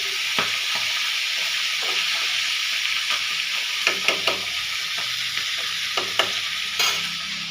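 Catla fish sizzle and fry in hot oil in a pan, a steady close hiss broken by sharp pops and spatters scattered throughout.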